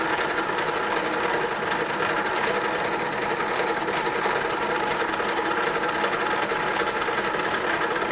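A lathe running steadily during a turning operation as the hand wheel is moved, giving a continuous, even mechanical whir and hum with no pauses, fairly close and unaccompanied by speech.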